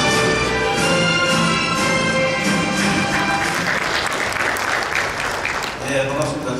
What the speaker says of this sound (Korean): 여러분 박수로 맞이해주시면 감사하겠습니다.